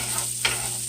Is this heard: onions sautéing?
yes